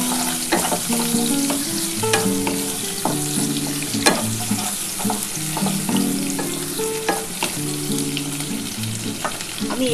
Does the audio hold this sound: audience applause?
no